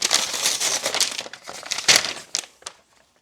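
Paper crinkles and rustles steadily as a LEGO City base plate is unwrapped, close and fairly loud, with a few sharper crackles and then tapering into quiet near the end.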